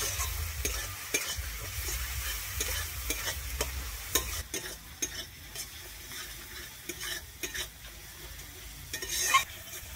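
Spice paste with chili powder stirred and fried in a pan for a prawn and pointed gourd dish, a steady sizzle under repeated scraping strokes of a spatula, close and continuous with no talking.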